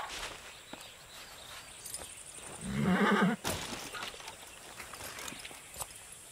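A brief horse whinny rises midway in the video game Far Cry 6, over a quiet outdoor background with faint hoof sounds and light ambient noise.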